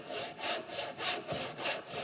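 A hand saw cutting wood while a rebate plane is being made, five even push-pull strokes in a steady rasping rhythm, close and clear, with no talking.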